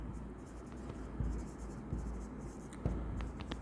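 Pen writing on a board or paper during an accounting lesson, soft scratchy strokes with a few firmer taps, steady and close over a low background hum.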